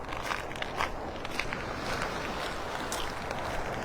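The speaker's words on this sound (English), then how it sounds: "A lot of broken shells crunching under my feet down here." Footsteps crunching over broken seashells on Vanderbilt Beach in North Naples, Florida, a steady gritty crackle of paced steps under a constant wash of surf and wind, fairly close, with no talking.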